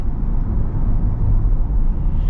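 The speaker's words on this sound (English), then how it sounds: "I will say I'm also pretty impressed with like the overall road noise." Inside a 2023 Chevy Corvette Z51 convertible on the move, a low, steady road rumble fills the cabin, continuous and fairly loud, with no voices.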